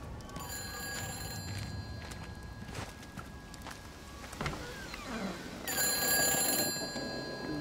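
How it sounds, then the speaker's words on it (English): Old-fashioned telephone ringing in the game Everybody's Gone To The Rapture, bright metallic trills recurring over faint ambient noise, with a louder burst of ringing near the end. "Another phone call."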